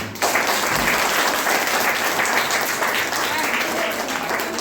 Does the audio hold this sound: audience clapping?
yes